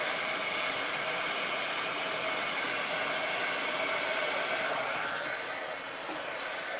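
A handheld dryer blows over a Chalk Couture chalk transfer, giving a loud, steady, unbroken whoosh of air that holds for the whole stretch with only a slight dip near the end.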